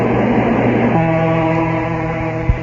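Train sound effect in a radio mystery drama: a steady rolling rumble with sustained tonal hum that shifts partway through, ending with a short low thump.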